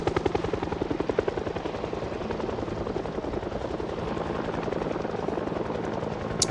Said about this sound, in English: that's a news chopper looking for survivors